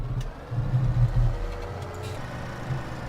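A John Deere tractor engine in Farming Simulator 17 runs with a low, steady idling rumble, briefly swelling louder before settling back, with no talk over it.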